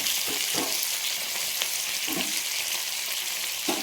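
Potatoes and onions fry together in a pan with a steady broadband sizzle, and a few soft stirring scrapes come through at intervals. Nobody speaks.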